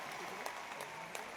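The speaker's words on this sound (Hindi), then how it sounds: "एक बार ताली वाली को बजा सकते हैं?" Audience clapping at a crowded RCM company gathering, a quiet, steady patter of applause throughout with a few sharper claps standing out, faint and distant.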